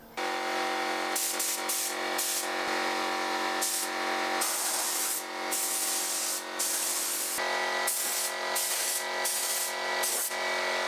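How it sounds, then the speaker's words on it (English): A spray gun hisses in sustained bursts of thinned hammered paint onto a vintage table saw, starting and stopping repeatedly with short pauses between passes, close and steady. "The hammered paint was easier to spray than I expected"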